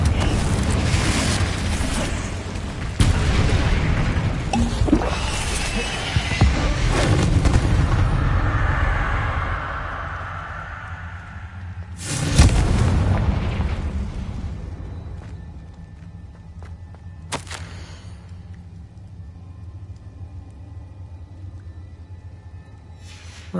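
The Confringo spell in the video game Hogwarts Legacy sets off explosive booms. Loud blasts with rumbling tails go off near the start and again around twelve seconds, with a sharp crack later before things fade to a quiet hum.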